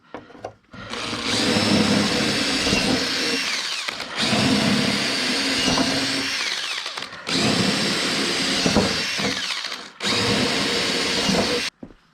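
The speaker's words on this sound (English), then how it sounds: "Hopefully she can drill through some fiberglass before she dies." Power drill boring through fiberglass while fitting a bike fender, four loud sustained whining bursts of roughly three seconds each separated by short pauses, close up with no talk.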